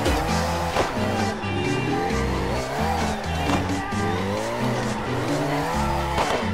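In the CarX Drift video game on PC, a drifting car's engine drones as its tires squeal in long, wavering screeches, loud and continuous with shifting pitch.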